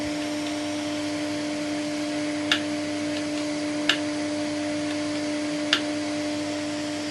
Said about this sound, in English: With the main vac on, I can hear air gushing through this already